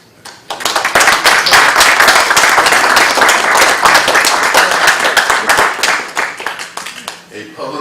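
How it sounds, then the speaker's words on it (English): Loud, close applause erupts at a city council meeting and holds steady for several seconds of dense clapping, then tapers off toward the end. "you guys deserve an applause today"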